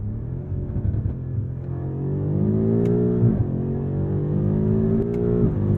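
A sports car accelerates hard at speed, its engine note climbing steadily in pitch and growing louder, heard from inside the car with no talking.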